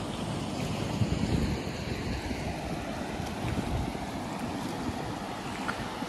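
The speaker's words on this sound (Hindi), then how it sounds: "तो ये उसमें गैप कम है तो उसकी वजह से वो ज़्यादा पानी उछाल मार रहा है।" Water rushes and splashes through a narrow gap in the Indira Gandhi Canal, a loud continuous broadband roar with wind buffeting the microphone throughout.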